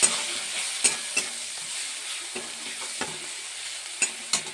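Tomato with cumin, chilli and a little ground coriander frying in a pan for dal, a steady soft sizzle with several sharp scrapes of a spoon stirring through it, close and moderately loud, no talking.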